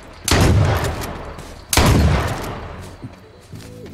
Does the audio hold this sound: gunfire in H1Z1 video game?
yes